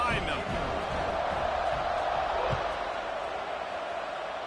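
Stadium crowd in a PS5 college football video game, a steady, broad roar that holds constant throughout, with a commentator talking over it.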